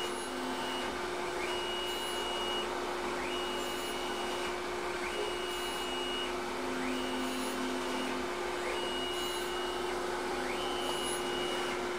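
Tormach PSG 612 surface grinder grinding a part with a steady, continuous whine and hum, overlaid by faint, regularly repeating swishes as the table traverses back and forth.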